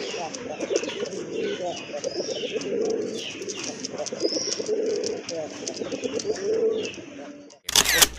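Desi and Rajgolla pigeons coo steadily and close by, with repeated rolling calls and faint chirps over about eight seconds, ending in a sharp click-like burst.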